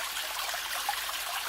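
A small stream bubbles and trickles down a mossy hillside ravine in a green grotto, a steady close, continuous babble of running water with no voices.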